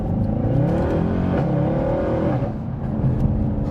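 A Mercedes-Benz C63 AMG accelerates hard, its engine note climbing and dropping in quick steps through rapid gear shifts, loud and close, then settling into a lower roar.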